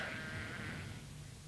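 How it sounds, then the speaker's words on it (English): Sheep bleating in the Yorkshire Dales, a single faint, drawn-out bleat that fades toward the end, heard alone without talk. "these sheep in the dales of Yorkshire"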